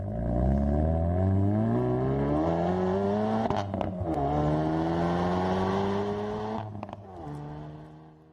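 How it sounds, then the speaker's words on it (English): 2019 Hyundai Veloster N with an engine of up to 275 horsepower revs hard, its exhaust note climbing steadily through the gears with sharp crackling breaks at each shift, loud and close before easing off near the end. "just listen to this exhaust note."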